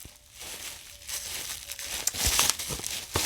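A package of comics being unwrapped, close crinkling and tearing of wrapping with rustles that build to sharper crackles toward the end, with no talk.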